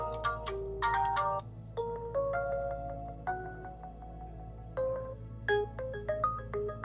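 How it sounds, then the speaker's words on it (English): Short melodic OPPO Find X7 Ultra ringtone snippets play in succession, bright beeping tunes and chiming notes with a faint background hum and no talking. "Bunch of ringtones."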